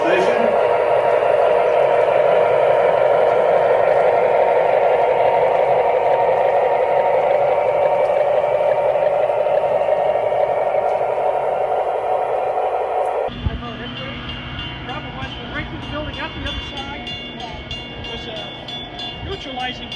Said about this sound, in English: Next special rolls into the station.